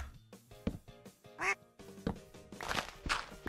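Repeated duck quacks in a video game on a Minecraft-style SDMP server, several short calls over a busy game soundscape, fairly loud and close.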